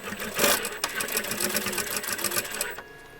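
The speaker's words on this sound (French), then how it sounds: "j'essaie de coudre au plus proche" A sewing machine stitches along bias binding on a quilted patchwork pouch, a steady close whirring run of needle strokes for a few seconds before stopping abruptly.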